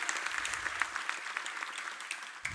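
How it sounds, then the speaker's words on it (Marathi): An audience at a book launch ceremony applauds, a steady patter of many hands clapping at moderate distance for a couple of seconds, with no speech over it. "आपण एकदा जोरदार टाळ्यांचा कृतज्ञतापूर्वक गजर करूया"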